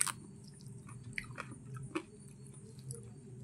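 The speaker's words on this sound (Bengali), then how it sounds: "ভাবলাম অনেক দিন পরে একটু সেদ্ধ ভাত খাচ্ছি" Boiled rice being chewed during a meal, with soft, moist mastication sounds coming in small irregular bursts over a low steady background hum, close and fairly quiet.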